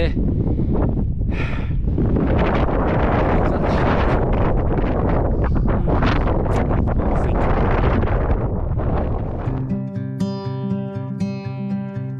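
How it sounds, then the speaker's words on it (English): Strong wind on a hilltop at Cautley Spout buffets the microphone with loud, continuous roaring gusts that ease near the end, where a bright tonal sound comes in over the fading wind. "But I've got to tell you, it's very blowy. I don't know if you can hear it on the camera"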